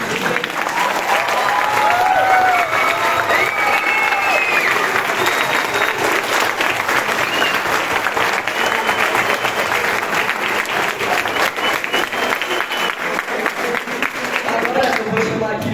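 Sustained applause from a standing crowd at an indoor gathering, loud and continuous throughout, with voices talking and calling out over the clapping.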